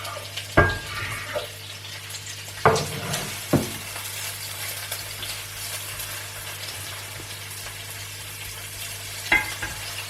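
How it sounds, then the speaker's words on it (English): Onion softening in olive oil in a broad, flat pan gives a steady, moderate sizzle, broken by a few sharp clinks and scrapes of stirring near the start and end; no one speaks. "When the onion has been softened in the olive oil"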